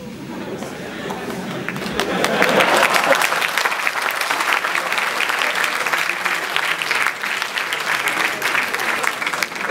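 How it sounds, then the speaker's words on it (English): Sustained audience applause in a university lecture hall at an IIM Bangalore talk, a dense steady clapping that swells after a couple of seconds and holds strong, with faint chatter mixed in. "It's all thanks to this kind of applause that we reached"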